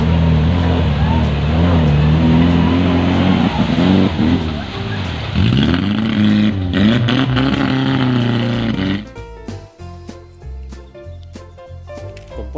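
A blue off-road car's engine revs loudly and close, the pitch sweeping up and down through several bursts before cutting off, with clattering sounds after it.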